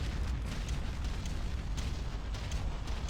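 Rolling bombardment explosions in the video game Ground Control, a dense, continuous roar of booms and bursts with sharper blasts popping out every half second or so, heavy and unbroken throughout.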